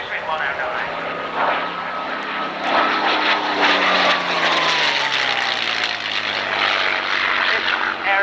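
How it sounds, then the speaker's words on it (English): A Messerschmitt 109 flying at an airshow, its piston engine roaring loudly and shifting pitch as it passes, with a downward sweep as the fighter moves away, under a public-address announcer's voice. "This aeroplane of the Messerschmitt 109."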